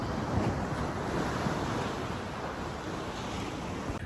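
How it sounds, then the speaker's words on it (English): Steady roar of ocean surf washing onto a beach in Durres, Albania, continuous and fairly loud, with some wind rumble across the microphone. "You can hear the waves crashing."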